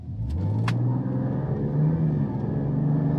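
A 2025 RAM 1500 Hurricane SST HO pickup pulls away under acceleration with a rising, deep engine drone heard from inside the cab, loud and steady with a couple of faint ticks early on.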